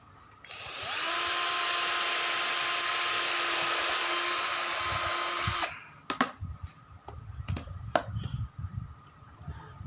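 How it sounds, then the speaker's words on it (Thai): A high-pitched power drill whirs steadily for about five seconds while drilling for a rivet on a lawn mower repair, then stops, followed by clicks, knocks and handling noises. "เดี๋ยวเราต้องเจาะ เจาะแล้วหา รีเวทอีกสักตัว"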